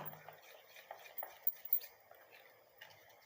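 A homemade hair oil mixture being stirred in a small container, with light clinks and scrapes of a spoon against the sides coming in an uneven rhythm, close and quiet, with no voices.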